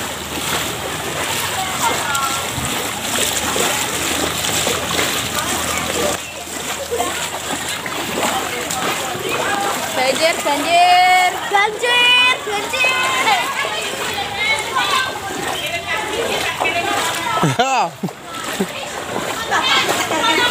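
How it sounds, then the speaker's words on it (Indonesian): Flood water splashes and sloshes inside a house in Rejosari, Karangawen, Demak, a steady wash of wet splatter running throughout, with people talking and a voice over it. "ini banjir. Masuk rumah ini guys"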